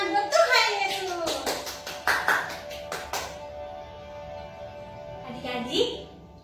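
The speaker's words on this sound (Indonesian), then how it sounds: "Kasih tepuk tangan buat Tuhan Yesus." Children clapping during an online Sunday school session, a quick run of sharp handclaps at the start followed by quieter background sound, with voices heard near the beginning and end.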